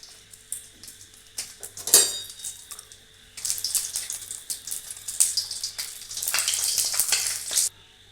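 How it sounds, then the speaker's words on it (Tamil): Dried red chillies frying in sesame oil, with an intermittent sizzle and bubbling and a few sharp spits, close and moderately loud. "நல்லெண்ணெய் விட்டுக்கிறேன். மிளகாய் வத்தலை பொரிச்சு எடுத்துக்கலாம்."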